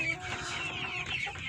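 A Plymouth heritage rooster clucks softly in a short burst, with low, faint farmyard calls close by and no talk.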